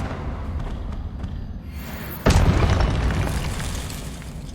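A Confringo fire spell blast in Hogwarts Legacy sounds as one sudden, loud booming burst after a quieter stretch, then a rumbling, crackling tail that slowly fades.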